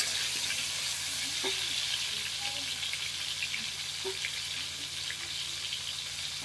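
Potatoes fry in oil with a constant, even hiss and fine crackle, close and moderately quiet, with a couple of faint utensil knocks and no talking.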